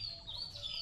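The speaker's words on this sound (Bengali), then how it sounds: "গাছে গাছে পাখি কিচিরমিচির" Small birds chirp in the trees of a rural village in the early morning after rain, a few faint high tweets in quick succession.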